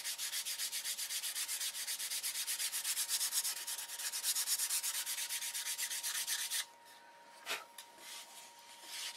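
Sanding a wooden control line model airplane, an electric Thunderbolt, with steady rapid back-and-forth rasping strokes close up for about six seconds, then stopping, followed by a single faint knock and quiet.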